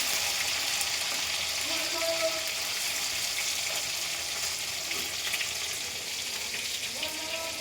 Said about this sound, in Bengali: আর ময়দার পনিরটা আমি এখন ভেজে নিচ্ছি